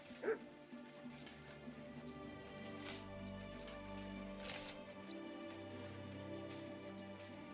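A dog in the medieval game Kingdom Come Deliverance II gives a single short bark right at the start, followed by a steady patter like rain and low background tones, with no talking.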